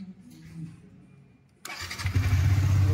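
A 2023 Yamaha R15 V4 motorcycle sits quietly with low faint rumble, then its engine starts abruptly and settles into a loud, steady, close idle that carries through to the end.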